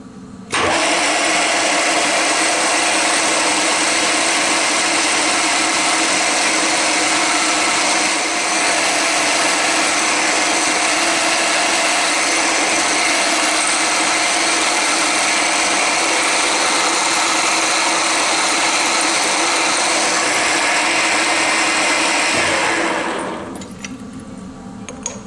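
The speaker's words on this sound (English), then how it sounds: "drill a hole here through" A power drill whines loudly and continuously for over twenty seconds, biting steadily through metal, then winds down and stops.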